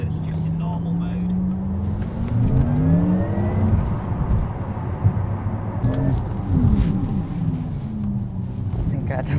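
A Porsche Taycan Turbo S electric car accelerates in normal mode, giving a rising synthetic whir that sweeps upward twice over steady road and cabin noise, with people talking faintly inside.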